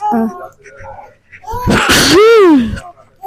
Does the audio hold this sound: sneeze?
yes